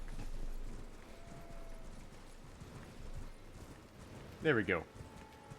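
A summoned horse in Elden Ring clip-clops at a gallop, soft and steady under the game's ambient sound, with a brief spoken phrase near the end.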